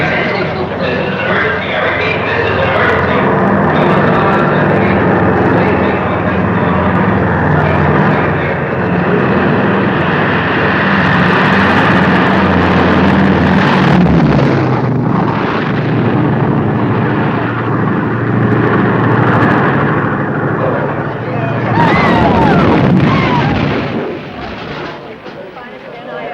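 A 1953 film scene set on an airfield: a loud, sustained aircraft engine roar fills the soundtrack, swelling and shifting with bursts of mechanical noise for the whole stretch, close and dominant.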